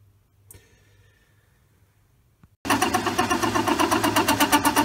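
An Elliot 14 S lathe cuts metal with vibration: near-silence with a few faint clicks gives way to a loud, steady, rhythmically pulsing mechanical chatter that continues to the end.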